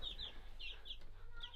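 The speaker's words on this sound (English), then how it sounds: "chirping loudly, so they're not happy" Young meat chicks huddled in a brooder box chirp in shrill, repeated peeps, several short calls in quick succession over a low steady background hum, fairly faint and with no one talking.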